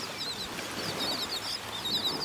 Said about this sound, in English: Listen to all these guys chirping.